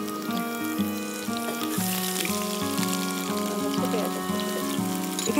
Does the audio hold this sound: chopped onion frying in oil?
yes